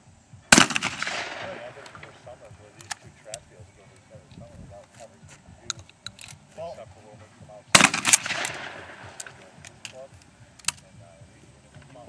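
Shotgun blasts during a pheasant hunt, two sharp loud reports several seconds apart, each ringing out briefly, with scattered clicks and quiet talk between them.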